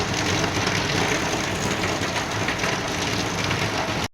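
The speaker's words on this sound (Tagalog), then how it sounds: "Ang lakas ng ulan" Heavy rain pours down in a dense, constant hiss that cuts off abruptly at the end.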